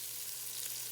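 Chopped onions frying in a pot for a Mississippi pot roast, a steady close sizzle with no breaks, heard alone without talk.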